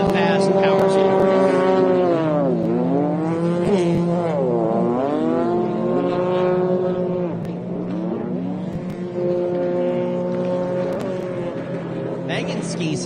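Jet ski engines race on Lake Tawakoni, including Megan Burns on a Fast Power Sport ski. Loud whining tones rise and fall in pitch as the craft pass and turn, with commentators talking throughout.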